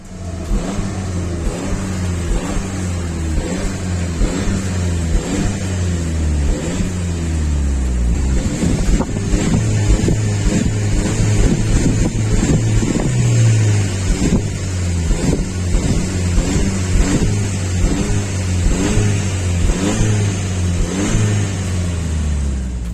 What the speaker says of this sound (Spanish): es escuchar rugir esos motores. Así que Golf, acompáñanos a rugir.